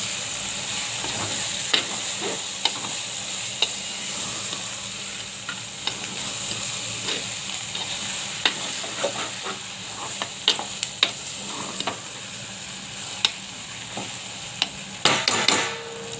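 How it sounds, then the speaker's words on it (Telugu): Steady frying sizzle with intermittent scraping and clinking of a spoon stirring brinjal pieces in a pan, continuous and close. "అడుగంటకుండా బాగా వంకాయ ముక్కల్ని కలుపుకోవాలి"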